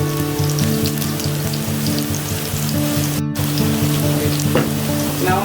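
Onions, ginger and garlic frying in a pan give a loud, continuous sizzle with crackling pops and a short break midway, with no voices.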